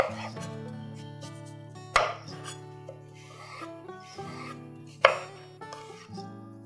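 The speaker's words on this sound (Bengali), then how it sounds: "আমটা খোসা ছাড়িয়ে লম্বা লম্বা করে কেটে নেবে" Peeled raw green mango cut into long strips on a board, a few sharp knife chops spaced seconds apart, heard under a sustained musical backing.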